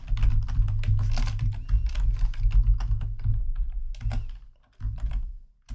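Rapid typing of JavaScript code on a computer keyboard, dense clattering keystrokes close to the mic, steady with brief pauses, no voice.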